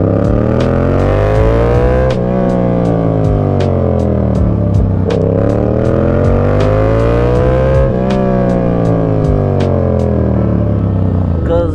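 A Yamaha MT-07 motorcycle being ridden on a cold night, its engine loud and close throughout as it revs up and down through repeated gear changes, with rising and falling pitch and wind noise.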